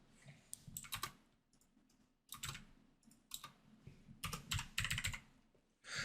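Fingers typing a birthday on a computer keyboard, making bursts of quick, crisp key clicks separated by short pauses, close and clear with no talking.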